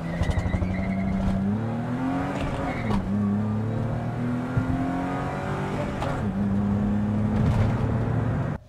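BMW E30 325i accelerating hard in a 0-60 run, engine pitch rising through several gear changes with brief dips between, loud and close with tire and road noise, no talking.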